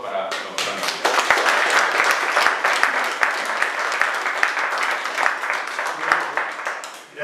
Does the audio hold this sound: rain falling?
no